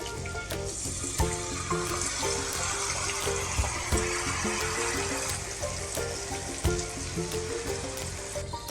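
Steady, close sizzling and bubbling of hilsa fish frying in a pan as mustard paste is added, a continuous crackle with occasional sharper pops and no talk.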